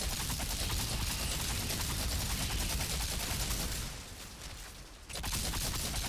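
Relentless close-range gunfire and explosive bursts from the co-op shooter Outriders, played as a Pyromancer, pound on almost without pause, easing briefly before resuming at full intensity.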